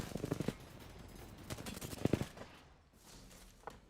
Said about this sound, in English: Beautiful shots here from Outplayed